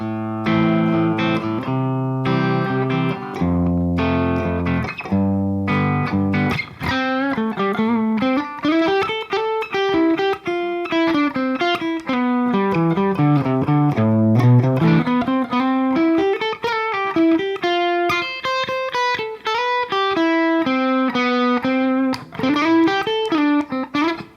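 A distorted electric guitar plays flowing melodic licks alone, steady and loud, after a few sustained opening chords.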